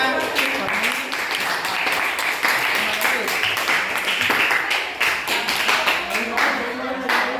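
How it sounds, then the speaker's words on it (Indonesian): A classroom group applauds after a student group's presentation on Islamic marriage, with steady, dense clapping from many hands filling the whole stretch, loud and close, and a few voices mixed in underneath. "beri aplaus untuk kelompok 1 pembahasan tentang makna"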